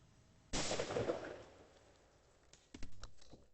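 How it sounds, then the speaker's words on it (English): A shotgun loaded with buckshot fires once at a hanging tennis ball, a single sharp loud blast with a short decaying tail, followed by faint clicks and rattles of handling. "We'll just shoot that with that buckshot."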